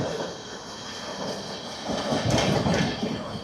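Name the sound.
Gaya–Howrah Vande Bharat train crossing past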